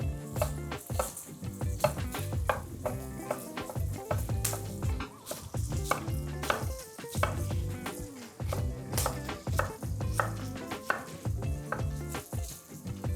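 Crispy bacon frying in a pan for rigatoni pasta, a dense, continuous sizzle with frequent sharp pops and spatters, close and fairly loud with no talking.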